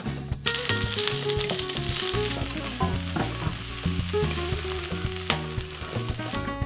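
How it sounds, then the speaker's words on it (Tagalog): Cabbage fries in oil in a pan with a steady, loud sizzle and crackle, and stirring scrapes come and go throughout. There is no talk. "Lagyan lang natin siya ng konting oil. Unahin natin yung repolyo."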